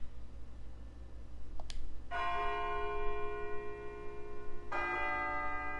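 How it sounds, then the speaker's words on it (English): A church-like bell rings in a video game, a sharp strike followed by two long, ringing tolls with shimmering overtones over a low background hum. "It sounds like a bell, but where's it coming from?"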